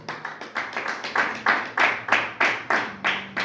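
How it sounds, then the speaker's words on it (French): A church congregation at a Sunday service claps loudly in unison, a regular rhythmic beat of sharp hand claps about three per second, close and full, with no talk over it. "Est-ce qu'on peut acclamer très fort?"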